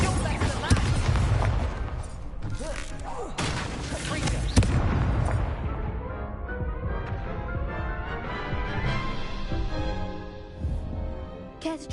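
Incendio fire spell cast in Hogwarts Legacy, loud whooshing fiery blasts and booms over layered game effects and music, with a sharp impact partway through and the sound tailing off into a ringing decay.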